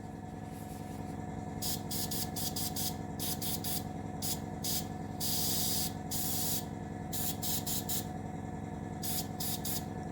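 Airbrush or spray-can bursts coat the ports of a Russian Navy Project 955 Dolgoruky model submarine, several short hissing sprays in an uneven rhythm plus one longer burst over a steady motor hum.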